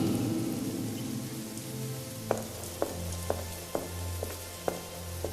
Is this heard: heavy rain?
yes